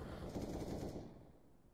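Rapid bursts of gunfire from a Counter-Strike match, dense and loud at first, then fading and thinning out toward the end with no voices over it.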